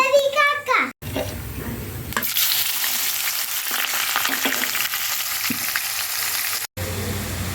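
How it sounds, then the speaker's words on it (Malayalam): Cumin and fennel seeds fry in hot oil with a loud, dense, steady sizzle that fills the sound, close by, following a brief stretch of a voice at the start. "ആദ്യം ഓയിൽ കുറച്ച് ചെറുജീരകം കുറച്ച് വലിയ ജീരകം ഇട്ടിട്ട് ഇതേപോലെ എണ്ണ ചൂടാക്കുക"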